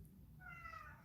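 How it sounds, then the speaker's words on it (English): A single faint, short meow from a cat in a room, a thin drawn-out cry rising over a low steady room hum with no talking. "I'm hearing the cat in here. The cat is in here."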